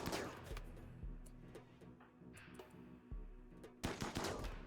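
Gunfire in the video game RimWorld, with quick bursts of shots and sharp single reports coming in clusters, fairly faint and without talk over them.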